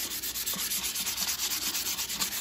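Hand sanding over primer on a steel car wheel, a rapid rhythmic scratchy rubbing with steady back-and-forth strokes, close and continuous with no talk.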